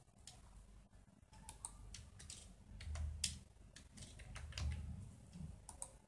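Quick, light keystrokes tap out on a computer keyboard in short irregular bursts, close and quiet, with faint low background rumble between clicks.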